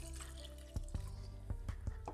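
Water with lemon juice is poured from close by into a mixture of nuts, dill and garlic paste for a cold tarator soup, a soft continuous trickle broken by several sharper splashes and drips, with no talking.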